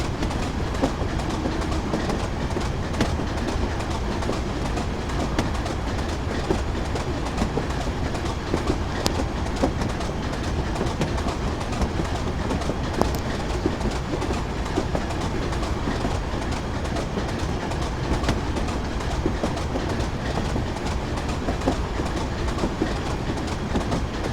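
A simulated train rolls along the Darlington to Durham via Bishop Auckland route in Train Simulator 2015, with a steady, continuous rumble and clickety-clack of wheels on rail throughout, close and fairly loud, with no talk.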